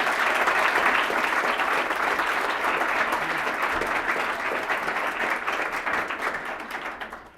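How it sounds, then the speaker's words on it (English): A rousing round of applause from an audience after an address by Raila Odinga, loud, dense clapping sustained for several seconds before fading out at the end. "Give him another rousing round of applause."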